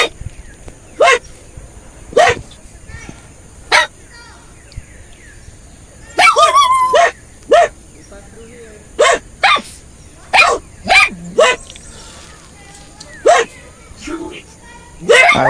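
Dogs bark loudly and repeatedly in sharp, irregular bursts, sometimes several in quick succession, with quieter stretches between.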